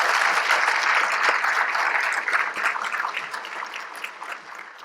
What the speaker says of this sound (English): give the organizers a big round of applause for a great RubyKaigi